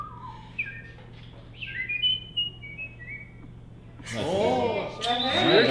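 At a whistling convention, a person whistles a short sequence of clear, sliding tones, first faint and thin, then a louder, warbling burst close by at the end, with background murmur.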